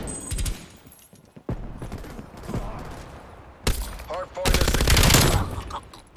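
Stoner machine gun fired in Call of Duty Black Ops Cold War, several rapid bursts of loud close automatic fire separated by pauses, the longest near the end, with a voice talking between them.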